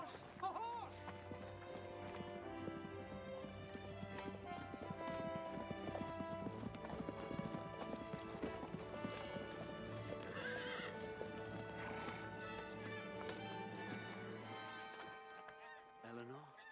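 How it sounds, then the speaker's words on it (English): A horse in a medieval TV drama trots with a steady clip-clop of hooves and gives loud whinnying neighs, while voices and other background sounds carry on around it. "A horse! A horse!"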